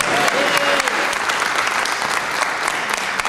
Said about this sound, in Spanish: Así que el aplauso es para ustedes y para Tomás